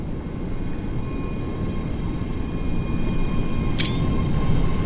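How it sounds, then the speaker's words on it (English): Edinburgh-bound ScotRail express train passing in the Train Sim World 3 game, a steady loud rumbling roar building slightly toward the end, with a brief high squeal near the close. "Oh, there's the Edinburgh train."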